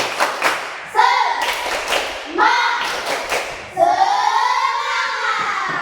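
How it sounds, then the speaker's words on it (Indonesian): Students in a classroom doing a rhythmic spirit clap, bursts of group hand clapping and thumping separated by short pauses, loud and close, mixed with children chanting and calling out. "kita tepuk semangat dulu supaya kita semangat"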